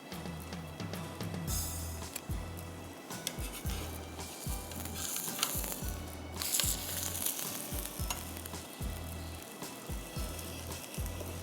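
Chicken leg pieces sizzling as they fry in a pan for a Hyderabadi dish, a steady close crackle with periodic scraping and stirring strokes, no talk over it.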